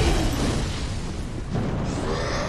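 A fire spell bursts against an enemy in Dark Souls III, a loud, dense roaring whoosh that stays steady for a couple of seconds with no talk.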